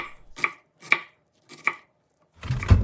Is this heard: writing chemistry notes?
no